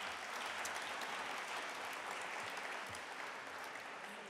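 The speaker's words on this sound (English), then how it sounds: "You can give that round of applause." Audience at an awards ceremony applauds steadily, a dense, even wash of many hands clapping, fairly distant and faint, sustained throughout without speech.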